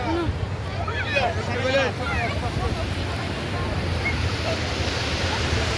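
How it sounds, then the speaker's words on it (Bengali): Steady roar of ocean surf at Cox's Bazar with wind rushing past the microphone, faint voices and chirpy sounds drifting through in the background. "এই যে সাগর আর পানি আর পানি।"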